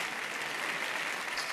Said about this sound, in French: on les applaudit encore très fort